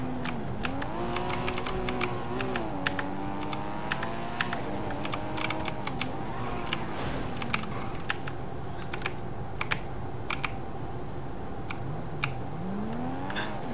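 Typing on a faulty computer keyboard, a steady run of close, sharp key clicks going on throughout over a low droning background hum, with no speech.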